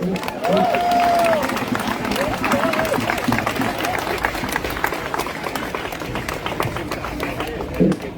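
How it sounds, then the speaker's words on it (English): A crowd at a Free Palestine rally in Melbourne breaks into applause and scattered cheers, a dense burst of clapping heard over a voice speaking close by. "A big round of applause for Naarm"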